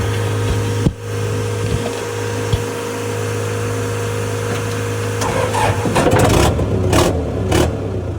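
A stalled vehicle, jump-started off a truck, cranks and catches near the end, its engine rising into a rough rev after a steady idling hum and a few knocks.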